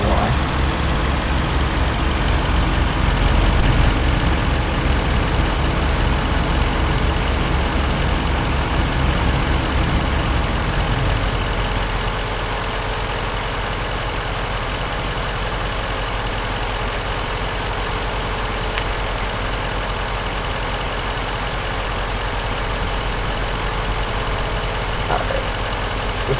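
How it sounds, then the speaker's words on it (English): A truck engine idles in Farming Simulator 25 with a steady, loud, rough rumble that drops to a softer, even idle about halfway through and holds there to the end. "Then we connect that trailer to this truck."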